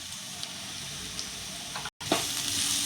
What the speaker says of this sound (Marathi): आणि हे सगळं परतून घ्यायचं।